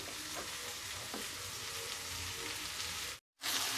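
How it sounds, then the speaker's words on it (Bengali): Chicken pieces tip into a pan of frying onions for chicken curry with potatoes, setting off a loud, steady sizzle and crackle close by that cuts out briefly near the end, with no talking. "এবার এই চিকেনটা এর মধ্যে ঢেলে দিলাম।"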